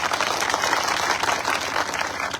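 A gathering of Bhim Army supporters claps for Babasaheb Ambedkar in a dense, continuous burst of applause, steady and fairly loud with no talking.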